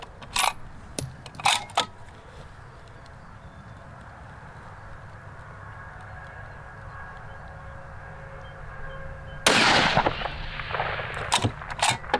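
Scoped rifle, a Delta Stryker 4.5-30x56 optic, fired outdoors: a few sharp, loud reports stand alone early on, then a louder burst of blasts and clatter near the end, with quiet background in between.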